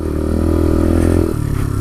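A Bullit Hero 125 motorcycle engine drones loud and close as the bike climbs out of a big rut, with steady mid-pitched running and some clatter, no talking.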